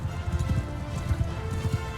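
Horse hooves gallop in a steady rhythm of dull clip-clop beats in the medieval combat game Mount & Blade II: Bannerlord, set against a constant battle-ambience hum.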